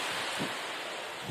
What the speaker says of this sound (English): the wind kind of like wakes me up